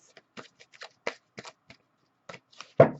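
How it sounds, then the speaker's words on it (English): A deck of tarot cards is shuffled by hand in short separate bursts of soft riffling and slapping, close and quiet, ending with a louder snap of cards. "And shuffle those."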